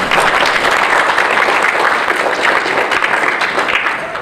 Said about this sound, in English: And you give them a round of applause if you want to.